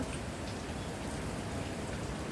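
Steady rain falling outdoors, an even hiss of drops that stays constant and fairly quiet throughout, with no voices.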